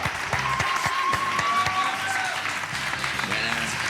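A studio audience applauds for guest Jorge Asín, a steady burst of clapping that fills the room while voices talk over it.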